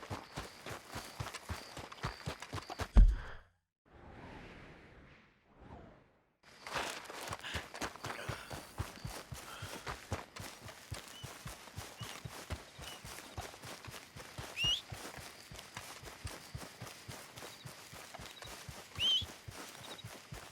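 Steady video game horse hoofbeats clopping at a quick, even rhythm, close by, in Red Dead Redemption II, with a brief pause in the middle before the trotting resumes.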